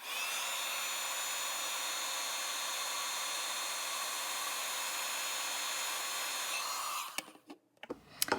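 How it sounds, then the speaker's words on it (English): A craft heat tool warming sticky clear embossing powder on a stamped card image gives a steady, loud blowing hiss for about seven seconds, then cuts off, leaving a few soft handling clicks and rustles. "So now we will use our heat tool to set the image."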